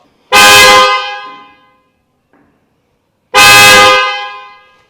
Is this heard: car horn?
yes